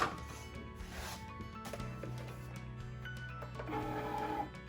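A Cricut Maker pulls in a cutting mat carrying iron-on vinyl, a soft motorized whirring with faint clicks and a few tonal hums that rise slightly near the end, heard alone at close range.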